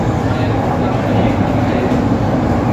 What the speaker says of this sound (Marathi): ट्रेन जे मिठी नदीच्या खालून चाललेली आहे